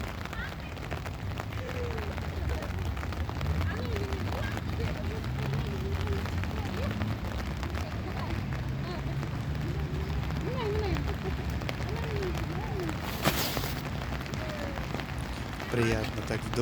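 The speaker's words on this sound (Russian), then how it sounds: "Приятно так в дождик прогуляться." Steady rain falls over a new park near Kosmonavtov metro in Tashkent, a dense even patter with scattered bird chirps, a brief sharp burst near the end and a voice talking.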